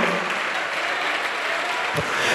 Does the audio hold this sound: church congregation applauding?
yes